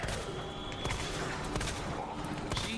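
Enemy gunfire in a video game rattles in a dense, steady barrage of overlapping shots with sharp individual cracks throughout, fairly loud and continuous.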